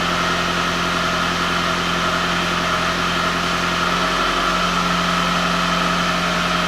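Steady, loud engine running close by while its EGR valve is commanded open, producing a constant low drone with a slight shift in tone partway through, with no other sounds.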